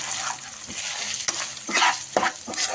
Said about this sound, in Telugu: ఇలా ఫ్రై చేసేసుకోవాలి అన్ని మసాలా వేసేసాక